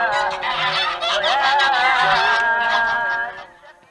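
Geese honk loudly and repeatedly, several birds calling over each other close by.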